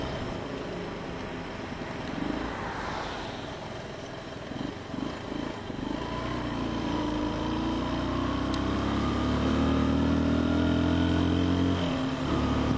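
A Suzuki DR 125 motorcycle engine runs on a winter day, a low uneven mid-range drone that wavers at low revs and then climbs steadily in pitch, fairly close and continuous without speech.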